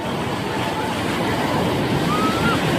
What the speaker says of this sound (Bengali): বড় ঢেউ